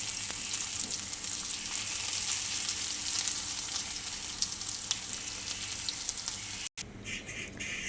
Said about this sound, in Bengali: আমার শাপলা ভাজা একদম হয়ে গেছে।